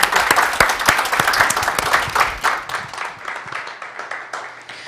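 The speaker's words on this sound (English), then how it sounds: "Round of applause for Heidi." Audience applause for a speaker at a university shared-services event, crisp clapping from a modest crowd that starts strong, then thins and dies away into near silence.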